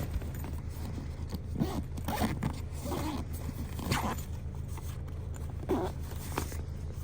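The double zip on a Pecute cat carrier backpack is pulled in several short rasping strokes, close-up and moderately loud over a low steady hum.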